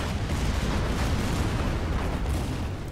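Artillery and unit fire pounding a bunker in the Order of Battle war strategy game, a dense continuous rumble of low booms and blasts that stays loud and steady throughout, with no voices.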